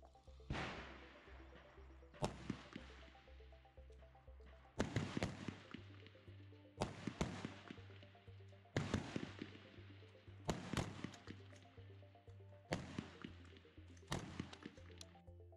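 Rifle shots in a rapid-fire string on a firing line, sharp cracks repeated at roughly two-second intervals over a steady low hum, loud and close.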